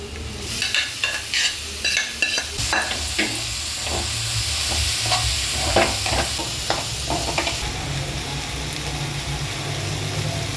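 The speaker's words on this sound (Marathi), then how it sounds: "कांदा आपला छान परतून झाला आहे मसाले पण सगळे परतून झाले आता ही मटकी आपण याच्यामध्ये घालूया" Matki sprouts are stirred into onion masala frying in a pan, giving a continuous sizzle with repeated scraping and stirring strokes of a spoon against the pan, close and loud with no talking.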